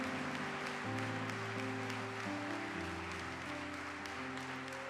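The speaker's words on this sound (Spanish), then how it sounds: "Más fuerte el aplauso, más fuerte el aplauso." A church congregation applauds continuously during a service, a dense steady wash of clapping with music tones sustained underneath, no speech.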